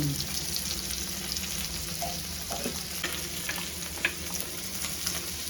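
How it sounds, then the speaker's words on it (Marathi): Fish fries in a spoonful of oil in a pan for a Malvani fish fry, a continuous close sizzle and crackle with small pops and the occasional stir, and no voices. "आवाजाने चांगले फ्राय झाले"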